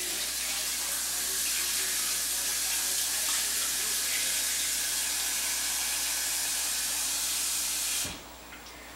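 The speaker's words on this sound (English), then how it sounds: "all I'm going to do is add enough water just so it covers the potatoes" Tap water running steadily into a pot of halved potatoes, a continuous close hiss and splash that cuts off abruptly near the end, with no talking.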